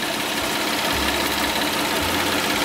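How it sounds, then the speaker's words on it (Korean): A used Hyundai Grandeur HG 3.0 with 180,000 km on it idles in a steady, smooth, continuous hum with a low rumble underneath. The engine sounds close and even, with no talking. "엔진 소리가 상당히 깨끗하고 깔끔하고 진동 누유 전혀 확인할 수 없습니다"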